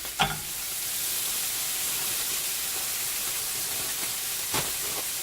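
Four strips of bacon and three sausages frying together, giving a steady hissing sizzle throughout with a few louder pops and clatters near the start and end.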